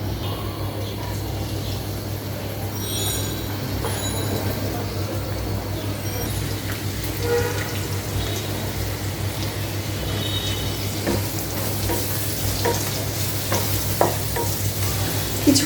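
Spices fry in hot oil in a pan on a stove, making a steady, close sizzle with occasional stirring scrapes and clinks throughout, and no voices.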